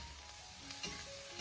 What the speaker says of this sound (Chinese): 开大火进行快速的翻炒一下，将其翻炒均匀